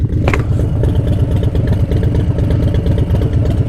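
A Harley-Davidson Breakout with a 131 motor idling on one cylinder, a loud, close, uneven lumpy thump with mechanical clatter, repeating steadily and alone.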